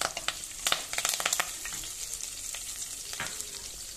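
Curry leaves sizzle in hot oil along with a dried red chilli, urad dal and chana dal. A soft crackle runs throughout, broken by sharp spatters and spoon scrapes in the first half, with no voices.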